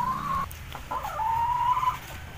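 An old speckled Indonesian hen clucks from a cage, giving two drawn-out, close calls separated by a short pause.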